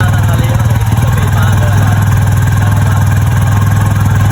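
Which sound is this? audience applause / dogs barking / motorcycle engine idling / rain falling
motorcycle engine idling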